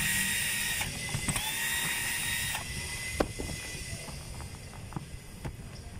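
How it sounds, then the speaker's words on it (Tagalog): Harsh, steady metallic grinding and screeching from a distance, with a few sharp clanks and knocks breaking through, like steel being cut outdoors. "Meron po kasi mga nagpuputol ng bakal sa labas mga kabay,"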